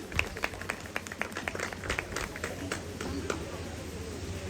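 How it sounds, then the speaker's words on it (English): Audience at a university orientation day applauds, a scattered, moderately distant clapping with uneven individual claps over a murmuring room, no strong unified burst. "A huge round of applause for Dr."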